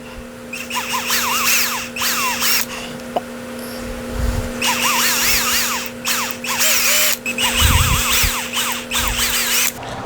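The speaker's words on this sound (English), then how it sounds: "to drill the pilot holes in the back to attach the screws and secure them" A small bit drills pilot holes through the back of a wooden Flying V guitar peg head for small screws, the power drill whining in several bursts with short pauses between them.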